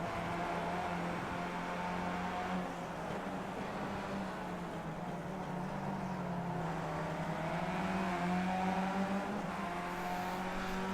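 Onboard engine noise of a race car on the VIR Grand West track, a continuous loud drone whose pitch sweeps down and back up as the driver brakes and accelerates through corners.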